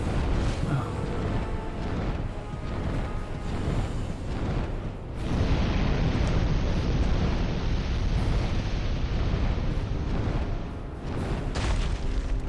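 Dark Souls II: Scholar of the First Sin fire attack, a sustained, loud roaring whoosh of flame with heavy booming bursts, rumbling continuously up close and swelling again midway.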